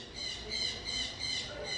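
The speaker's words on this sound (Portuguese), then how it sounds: "passarinho, cala a boca." A small bird chirps in quick repeated high trills, fairly faint and steady, with an insect-like buzzing quality and no voices over it.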